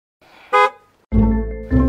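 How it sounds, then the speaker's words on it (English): A car horn sounds outside a house, one short toot and then a longer honk followed by a second blast, loud and close, with no talk. "I just had a car honk now."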